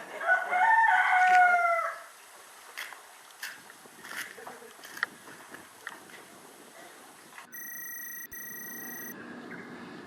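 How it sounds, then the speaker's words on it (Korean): A rooster crows once, loud and close, on a silent Nyepi morning in Bali. After the crow comes a hushed stretch with scattered faint clucks and small knocks, then a steady high electronic tone near the end. "닭 울음소리"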